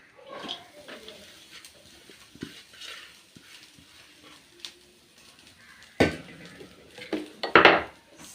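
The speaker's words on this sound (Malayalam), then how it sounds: "അപ്പോൾ നമുക്ക് നമ്മുടെ തേങ്ങ ആദ്യം വറക്കാം കേട്ടോ" Grated coconut being dry-roasted and stirred in a pan for a Kerala breadfruit curry, with scattered light scrapes and clinks of a spoon against metal, then a few louder scraping strokes near the end; no talking.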